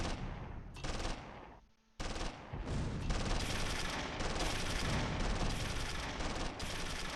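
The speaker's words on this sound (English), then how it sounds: "Just everybody's shooting over there." Dense, continuous bursts of machine-gun and rifle fire in a Close Combat III battle at Kharkov, loud and overlapping with a short lull before the volleys resume.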